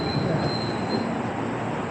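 BYD Sky Shuttle train arriving at its terminus station, a high thin wheel squeal running over a loud rumbling rail roar, close and steady, fading after about a second.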